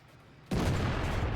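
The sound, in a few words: KV-2 tank cannon firing, World of Tanks video game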